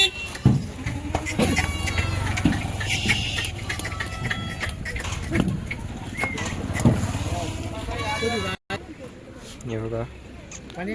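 Goats being unloaded from a vehicle bleat repeatedly amid a busy crowd of people talking loudly, the cries rising through the steady background chatter.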